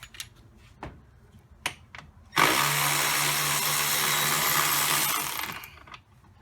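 A power tool whirs continuously for about three seconds while removing cooling fan bolts on a 2007 Pontiac Vibe, preceded by a few sharp metallic clicks and taps, close up.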